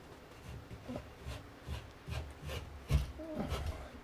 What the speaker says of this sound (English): Now that we have it all marked, go ahead and cut the drywall.